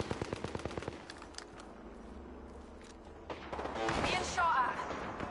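Video game gunfire: a quick burst of sharp shots at the start, then quieter distant rumbling and a louder crash of fire toward the end, with someone talking over it.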